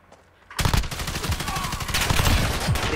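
Sustained rapid automatic fire from a gun in the Modern Warfare beta bursts in loud and close after a brief quiet moment, the rattling shots continuing without pause to the end.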